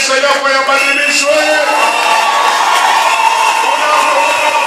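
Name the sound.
congregation clapping and cheering for God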